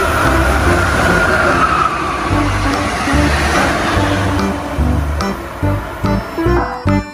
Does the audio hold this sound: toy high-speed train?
yes